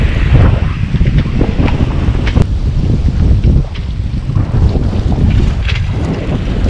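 Loud wind roars across the microphone with the rushing slosh of waves against a 28-foot sailboat at sea, a constant heavy buffeting with no letup.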